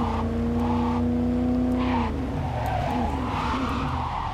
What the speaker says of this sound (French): J'essaie de voir si je peux faire du drift.